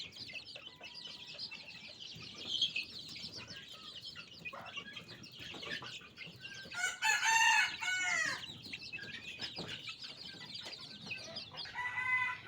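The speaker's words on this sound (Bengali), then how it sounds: "বাহিরে বড় মুরগিগুলোকে ছেড়েছি ছেড়ে খাবার খেতে দিয়েছি" Chickens cluck steadily throughout, with a rooster crowing loudly near the middle and again toward the end; hens let outside to feed; no talking.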